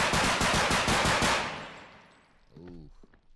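Rapid string of pistol shots in a tactical shooter game, about eight loud close cracks in quick succession, then fading echo and a brief voice near the end.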